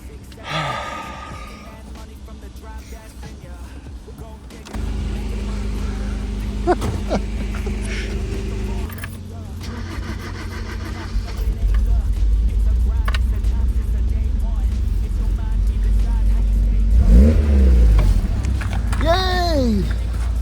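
An old supercharged Japanese car engine cranks and catches partway through, settling into a steady rumbling idle with a couple of revs near the end; a voice briefly gasps and sighs over it.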